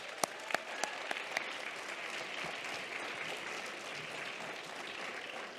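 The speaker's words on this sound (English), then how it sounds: "So can I have a round of applause for them?" At the CHEST Challenge Championship, an audience breaks into applause: a few sharp, distinct claps at first, then a sustained, even roar of many hands clapping in a large room.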